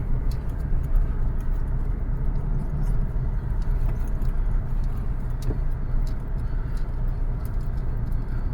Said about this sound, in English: I'm gonna try that driving with you. Well, I'm not looking at the camera. I'm driving.